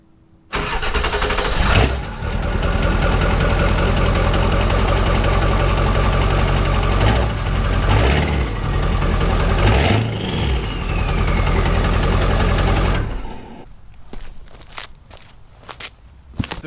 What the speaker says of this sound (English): it hasn't been started today, so I'm gonna give you guys a quick start